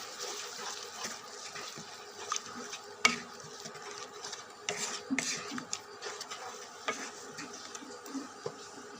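Spice paste for a potato curry fries and is stirred in a pan, with a low continuous sizzle and scattered scraping and clinking of the spoon against the pot.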